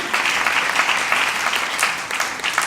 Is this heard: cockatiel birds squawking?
no